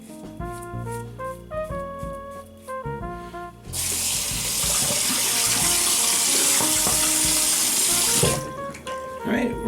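Water gushes from a tap into a sink in a steady, loud stream lasting several seconds while a Philips OneBlade Core electric shaver is rinsed under it, with background music before and after.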